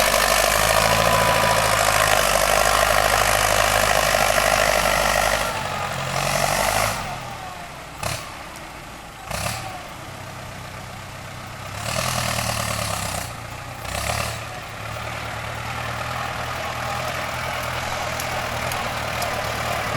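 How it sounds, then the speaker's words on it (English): A tractor engine rumbles and idles steadily nearby in Thailand, its drone dipping briefly a few times before settling back to a constant low throb. "Okay, there's the tractor."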